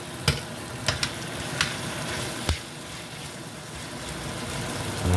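Grace butter beans being stirred in a cooking pot, a close bubbling simmer with a few sharp spoon knocks against the pot spread through it.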